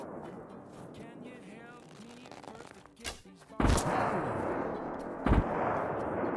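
Rifle gunfire in the survival game SCUM: two sharp loud shots about two seconds apart cut through a steady noisy background, the second followed by sustained rumble.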